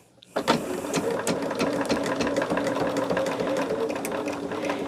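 A sewing machine stitches along the open edge of a small fabric piece at a one-eighth-inch seam, running in a steady, continuous whir with fine rapid needle ticks, close and alone with no voices.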